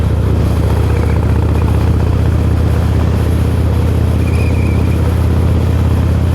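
Motorcycles ride in traffic, including a Harley-Davidson LiveWire electric bike, with a steady loud engine and road drone running throughout and no speech over it.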